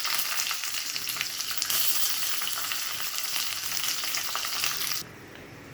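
Onions hit hot oil already crackling with mustard seeds and curry leaves, a loud, dense, continuous sizzle that stays even for about five seconds, then drops abruptly to a much quieter background.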